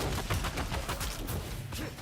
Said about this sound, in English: ovaj ima Gatling